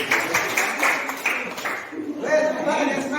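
Audience applause at a school gathering in Indonesia, a steady wash of many hands clapping that fades slightly midway and then swells again, with voices mixed underneath.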